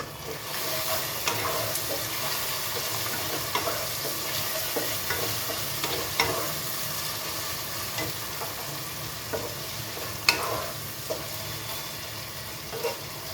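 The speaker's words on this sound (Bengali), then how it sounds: "এবার মশলাটা ভালো করে কষিয়ে নিতে হবে। মশলাটা কষছে" Boneless chicken with a chili-powder spice masala sizzles steadily in a pan for Bengali-style corn and chicken pulao, a continuous close frying hiss punctuated by stirring scrapes and small pops.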